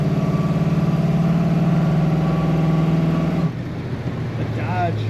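A 1950 Dodge Business Coupe street rod's engine rumbles with a deep, steady idle close by, then the tone drops and softens partway through.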